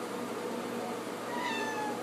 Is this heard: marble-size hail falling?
no